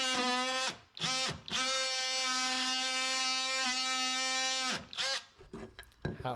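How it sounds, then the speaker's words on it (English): A power tool cuts away a section of baseboard during a fireplace media wall build, giving a steady, close, high-pitched whine that holds for several seconds, with brief dips as the blade bites and a stuttering finish. "How I was able to cut away the baseboard without having to remove the whole thing and still keep it very tight fitting."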